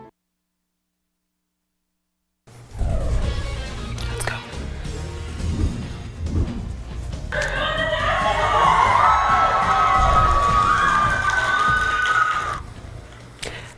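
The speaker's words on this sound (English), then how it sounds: "Those screams of joy came Saturday when USU Cross Country ran their way into history." A crowd at a college cross country race cheers and screams with joy, a dense, loud, sustained roar with high shrieks rising through the middle of the clip after a brief silent start.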